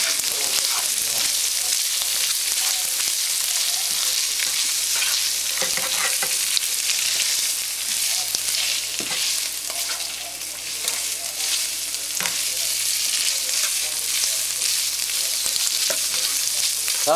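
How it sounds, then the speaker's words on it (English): Ground beef mixture for shepherd's pie sizzling and frying in a pan while being stirred, with steady close sizzle, occasional scraping strokes of the spoon, and a faint low hum underneath. "Now I'll just stir these throughout the mixture,"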